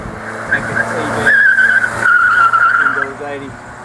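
A car skids at an autocross, tires squealing in a long wavering screech over steady engine noise, with a shorter squeal before and the sliding tone drifting down toward the end.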